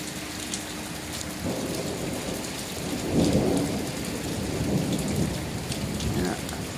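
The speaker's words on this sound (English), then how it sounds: "definitely a good bolt of lightning with that kind of thunder" Thunder rumbles through a steady rainstorm during a summer lightning storm in New York, a low roll swelling in the middle over constant rain hiss, with no voices.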